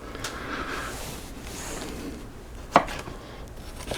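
Garlic being chopped on a board while fresh vegetables are prepared for a pressure-cooker chicken cacciatore; faint, quiet knife taps at moderate distance, with one sharper louder chop near the end.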